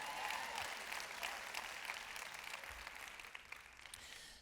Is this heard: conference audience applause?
yes